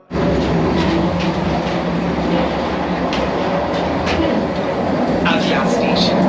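Interior of a running Vande Bharat Express in the executive chair car, a loud, steady rumble of wheels and carriage noise throughout, with faint rhythmic clatter and a brief higher squeal near the end.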